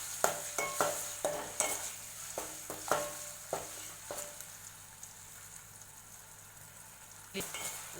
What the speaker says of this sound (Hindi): सबसे पहले हम डालेंगे 1 चम्मच पूरा भर के जिंजर गार्लिक पेस्ट। और इसको हम सौते करेंगे।